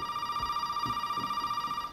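A telephone rings in the Resident Evil horror video game, a steady electronic bell tone held for about two seconds, loud and continuous over a faint low rumble, with no talking.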